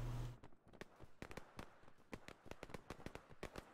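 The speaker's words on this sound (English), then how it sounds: "That's just a smoke grenade!" A smoke grenade going off in the video game Harsh Doorstop, heard as a quiet, rapid crackle of sharp pops and bursts following a short thump at the start.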